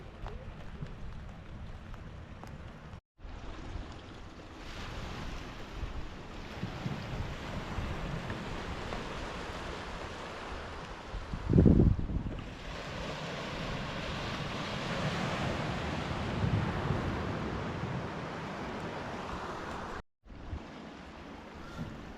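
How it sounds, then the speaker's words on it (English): Calm sea waves wash gently at Fontygary Ledges on a drizzly day, a steady soft surf with wind noise throughout and one brief louder surge near the middle. "it's really calm, the sea is"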